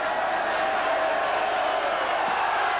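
A football crowd at a 1987 VFL match between Hawthorn and Sydney roars in a steady broad wash from a distance, with no clear peaks, under a commentator's talk.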